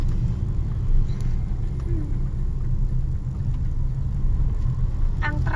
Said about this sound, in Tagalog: Ang traffic graba dito, nakasignal ng traffic pa rin.